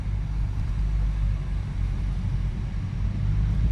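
A Toyota GR Supra 2.0 fitted with an aFe Takeda intake drives uphill, giving a steady low engine drone and road rumble heard from inside the car, continuous with slight swells and no talk.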